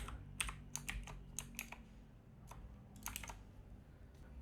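Quiet typing on a computer keyboard while editing JavaScript code, light irregular clusters of key clicks with pauses between, over a low background hum.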